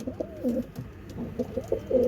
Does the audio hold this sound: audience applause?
no